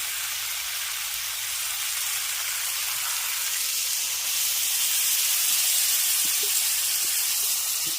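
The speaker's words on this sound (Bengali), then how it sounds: "এবার এর মধ্যে দিয়ে দেব জল" Water poured into a pan of fish, potato and cauliflower curry gives a steady, broad steaming hiss that swells a little louder partway through, with a few faint taps near the end and no voices.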